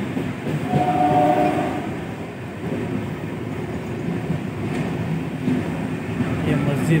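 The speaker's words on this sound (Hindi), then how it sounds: "और यहाँ से हमारी ट्रेन बहुत फास्ट चल रही है" A fast-moving train rolling through rain, with a steady dense rumble and hiss throughout and a brief higher tonal whine near the start, heard from inside the carriage.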